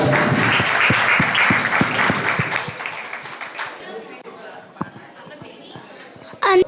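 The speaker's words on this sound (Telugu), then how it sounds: "అందరూ చప్పట్లు కొడుతూ ఆహ్వానిద్దాం." Audience applause welcoming children onto the stage at a church children's Christmas program, dense clapping with crowd chatter for a few seconds, then fading to scattered claps and murmurs before a brief loud burst at the end.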